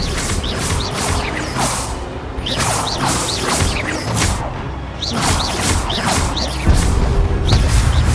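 Expelliarmus spell combat in Hogwarts Legacy: loud, dense whooshes, crashes and mechanical clatter run continuously, with repeated sharp swishes throughout.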